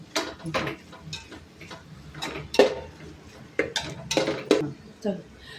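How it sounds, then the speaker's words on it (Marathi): Ginger garlic paste is sautéed and stirred in a pot over a low flame for chicken dum biryani, with sharp metallic spoon clinks and scrapes against the pot at an irregular pace under a woman's speech. "आपली आलं लसूण पेस्ट परतून घेऊया छान सारखी परत की मग कच्ची लागत नाही"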